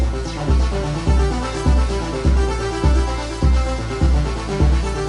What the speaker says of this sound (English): But because of the delay, it adds a really nice effect.